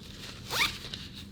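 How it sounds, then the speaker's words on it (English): The zipper on a Patagonia Ultralight Black Hole Sling 8L bag is pulled open in one quick, close rasping stroke, with a faint click or two after it in an otherwise quiet room. "we got some nice zippers with a little bit of cord zipper pull, matches the bag, works well to grab"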